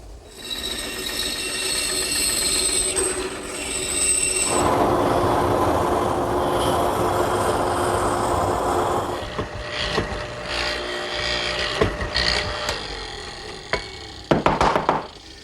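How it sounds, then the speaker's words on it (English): A bandsaw rips through sugar pine blanks for quilt rack feet, its blade whining in a long loud cut under a steady motor hum, then the machine winds down with clunks and knocks of wood handled nearby. "Now here's the blanks for the feet. We'll cut those at the bandsaw."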